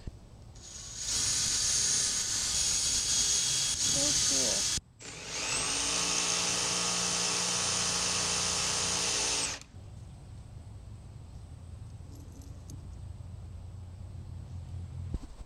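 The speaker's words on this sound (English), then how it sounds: "Now I have to make a cut there so that I'll be able to pass the blade through and secure it on either side." A Sawzall-type power tool cuts through the frame of a homemade compost sifter, a loud high whine running in two long bursts split by a short pause, then stopping and leaving quiet room noise.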